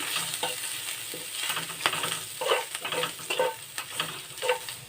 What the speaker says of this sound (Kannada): ಈ ಥರ ಮಿಕ್ಸ್ ಮಾಡ್ಕೊಳ್ಳಿ ಅಂದರೆ ಫ್ರೈ ಮಾಡ್ಕೊಳ್ಳಿ